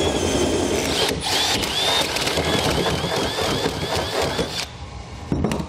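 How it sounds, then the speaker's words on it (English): Power drill fitted with an 11/16 inch bit boring out holes for a B and W Turnoverball underbed gooseneck trailer hitch, a continuous close grinding whir with squealing pitch sweeps, easing off briefly near the end. "we want to grab our 11/16 inch drill bit and open up these holes the rest of the way"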